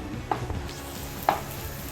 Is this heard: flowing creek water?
no